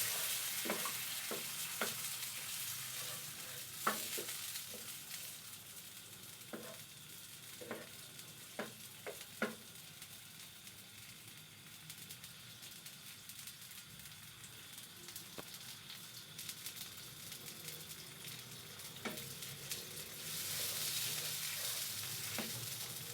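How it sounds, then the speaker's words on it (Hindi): Tomato paste cooks in a pan for an egg curry, giving a steady faint sizzle with occasional scraping taps of a spoon stirring, all at low volume with no talking. "हम इसमें ऐड करेंगे टमाटर का पेस्ट और इसे मज़ीद थोड़ी देर पकाएंगे"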